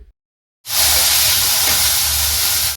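Peanuts, dried red chillies and coconut fry in a hot pan, a loud steady hiss and sizzle that bursts in after a short silence and holds without a break.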